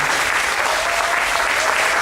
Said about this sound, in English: We can have a round of applause for them.